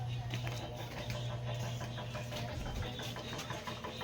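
A new motorcycle idles nearby with a steady, low, unbroken engine hum that runs evenly from start to finish.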